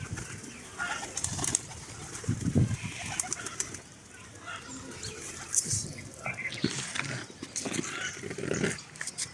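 Pigeons coo and flutter at feeding time, soft calls and bursts of wing flapping mixed with a man's quiet speech, all fairly faint and close.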